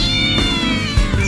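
A cat lets out a loud, drawn-out, wailing meow up close, a strained caterwaul that holds and bends before a second shorter cry.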